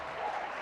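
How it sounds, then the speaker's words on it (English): An audience at the FICCI Frames 2024 panel in India breaks into a brief burst of steady applause, a dense wash of many hands clapping at moderate distance, fairly soft and short. "a round of applause for that"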